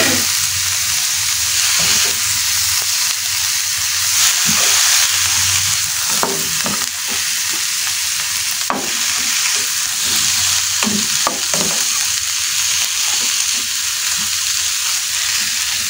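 Frozen shrimp hiss and crackle as they fry in a pan with wilted enoki mushrooms for an oyster-sauce dish. A steady, loud sizzle runs throughout, broken by frequent scraping stirs, with no talking.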